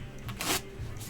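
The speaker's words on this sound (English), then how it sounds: "the one that we think about when we're saying shuffling is actually called riffling" A deck of playing cards being riffle shuffled, a brief close burst of rapid fluttering clicks as the two halves interleave, heard alone.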